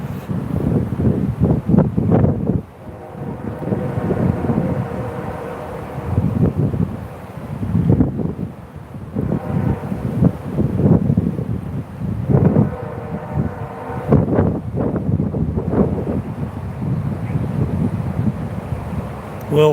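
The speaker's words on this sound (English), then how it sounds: "we got to take a break for a minute because, man, that wind is just" Strong wind buffets an outdoor microphone, a loud continuous low rumble surging and easing in gusts, with a voice speaking over it at times.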